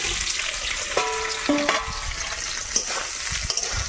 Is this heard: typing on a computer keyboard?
no